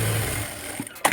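A sewing machine runs a brief, close, buzzing stretch while stitching a blouse lining, then stops with a couple of small mechanical clicks.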